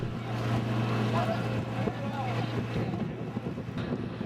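A boat motors along the river toward Niafunke in Mali, its engine a steady low drone with a sustained hum, wind buffeting the microphone and faint voices in the background.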